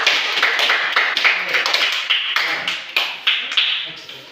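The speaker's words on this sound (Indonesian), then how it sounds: "Oke, tepuk tangan dulu sama kelompok 2 di kelas 1." A class of children claps for a group of classmates, a fast, uneven burst of many small hands patting together at close range, keeping up for several seconds with slight swells in intensity.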